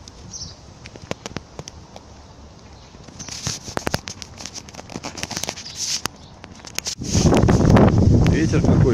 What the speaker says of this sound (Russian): Ветер какой сегодня.